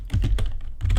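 Quick bursts of keystrokes on a computer keyboard, close and crisp, several clustered taps in about a second with no voices.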